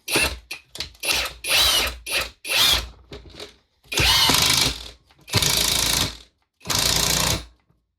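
Hercules 20-volt 1/2-inch ultra torque impact wrench driving dull screws into wood without pre-drilled holes: a burst of short rattling hammer pulses, then three longer loud sustained runs separated by brief pauses, close and alone.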